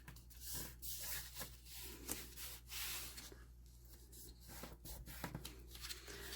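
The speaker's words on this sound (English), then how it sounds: "So let's just fold this up." Paper being folded and creased by hand, with soft rubbing and crinkling strokes repeating through the quiet stretch, faint and close.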